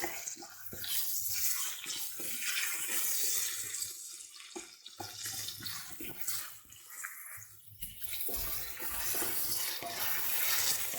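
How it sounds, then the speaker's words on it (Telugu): Green peas frying in a pan for matar pulao: a steady, close hiss of sizzling oil that swells and eases throughout, with no talking. "గ్రీన్ మటర్ వేసుకొని ఇప్పుడు ఇవి కూడా ఫ్రై చేసుకోవాలి"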